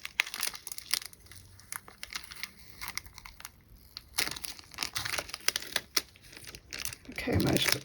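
Tape peels off a cured craft piece in a run of close crinkling, crackling tears and scattered sharp snaps, ending in a louder burst of rustling.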